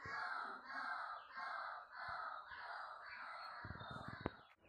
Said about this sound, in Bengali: ওদিকে পাখি ডাকছে